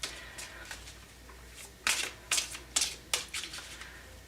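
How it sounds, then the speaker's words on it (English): A deck of tarot cards being shuffled by hand, with soft riffling at first and then four or five crisp, louder bursts of cards snapping together, close by and without talking. "See if I can shuffle these without throwing them all over the place."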